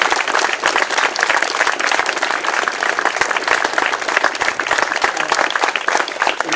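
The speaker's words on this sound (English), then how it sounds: "let's give all our veterans a great round of applause" Crowd at a 2019 Memorial Day ceremony in Dover applauding veterans, a dense, steady wash of clapping that holds loud and even throughout with no voices above it.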